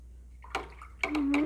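Paintbrush swished and rinsed in a water container during acrylic painting, short splashy bursts of sloshing and clinking close by, with a brief voice-like tone in between.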